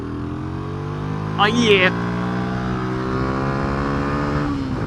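A Lexmoto ZSX-F motorcycle engine drones steadily and close as the bike is taken flat out through a corner, with the rider's brief voice heard over it.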